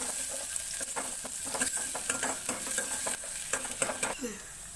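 Onions frying with cumin until they brown for a sambar, a constant sizzle broken by repeated scraping strokes of a spoon stirring the pan, close by and with no voices.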